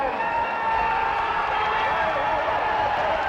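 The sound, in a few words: speedway stadium crowd cheering Tigers' win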